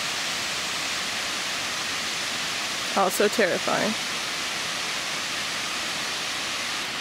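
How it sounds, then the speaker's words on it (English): A waterfall viewed from right underneath pours as a steady, broad hiss in a Pacific Northwest inlet, with a brief spoken remark rising over it midway. "And this is right underneath the waterfall."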